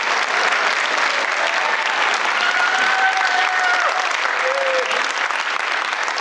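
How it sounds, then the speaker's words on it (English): A large audience at a high school spring instrumental concert applauding steadily and loudly throughout, a dense continuous wash of clapping with a few faint tones drifting through. "How about another round of applause for all of our students?"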